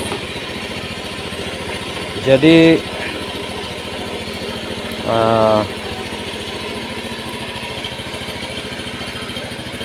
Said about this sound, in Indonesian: Nyalakan kontak, hidupkan starter nih.